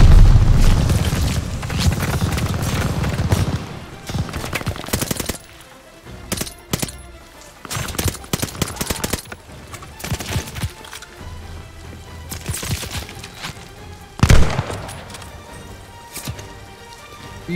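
Call of Duty: Vanguard combat with grenade blasts and gunfire during a train infiltration: a loud rumbling burst early, then scattered sharp shots and clattering impacts, with another heavy bang near the end.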